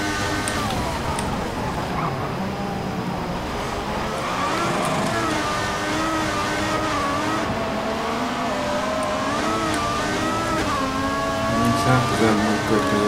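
An F1 race car engine in the F1 2014 game whines loudly with rising and falling pitch through gear changes, sustained across the stretch, with some voice mixed in faintly.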